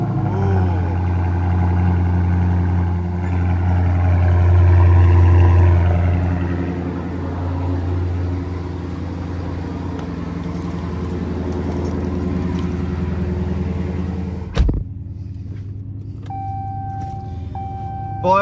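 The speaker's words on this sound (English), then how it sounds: "I'm going to give you guys a little cold start really quick so you guys can hear what she sounds" A Dodge Scat Pack fires up cold with a loud rumble that swells for a few seconds and then settles into a steady, deep idle, heard alone with no talking before it cuts off near the end.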